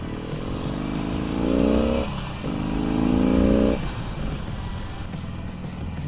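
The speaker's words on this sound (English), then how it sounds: "it will be quite interesting to see how it sounds, how the engine sounds." A 2016 Harley-Davidson Roadster engine and exhaust rumble steadily while riding, with a deep low drone that swells twice as the throttle opens, heard up close amid wind noise.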